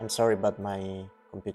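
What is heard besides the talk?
No everyday noise stands out behind the speech.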